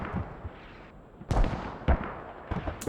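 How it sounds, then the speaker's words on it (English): Mortar fire in the video game Squad, a handful of sharp booming blasts at close range, spaced irregularly, with softer rumbling impacts and noise between them. "just mortars."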